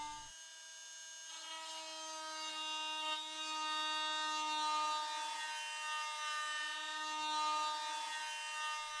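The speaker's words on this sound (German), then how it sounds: "Entfernen Sie alten Fliesenkleber." A Worx WX671 Sonicrafter 250W oscillating multi-tool scrapes old tile adhesive, giving a steady high-pitched buzzing whine with a strong tonal hum that runs continuously and swells slightly in intensity throughout.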